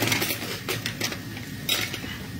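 Metal measuring spoons, tablespoon and teaspoon measures, clink and rattle as someone rummages through kitchen utensils, a close, busy jangle of small metallic knocks and scrapes with a louder clatter near the end.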